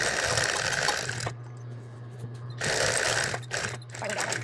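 A sewing machine runs in two bursts while edge stitching the pocket of an apron, with a rapid mechanical whirring separated by a short pause and a low motor hum between them, close and loud.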